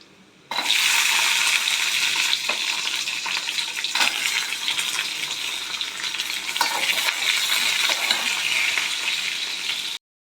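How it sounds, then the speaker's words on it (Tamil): Garlic and small shallots frying in hot oil for a Tamil-style kuzhambu, a steady loud sizzle and crackle that runs without pause for about ten seconds, with a few stirring knocks and no talking. "பூண்டு பொரிஞ்சிருச்சு, சின்ன வெங்காயம் போட்டுக்கலாங்க."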